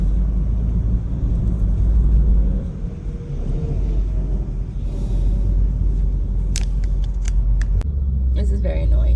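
Cars in sudden heavy road traffic rumble steadily with a low engine drone and tire roar that fills the whole stretch, while faint talking sits underneath.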